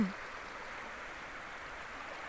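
Clear, cool water flows in a stream outdoors as a soft, constant rushing wash, faint and steady throughout with no voices.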